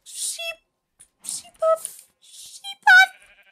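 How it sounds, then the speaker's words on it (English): A Minecraft sheep bleats in short high chirpy bursts, mixed with other brief game sound effects in a sparse, choppy sequence, close and fairly loud. "Oh my god, it's a sheep!"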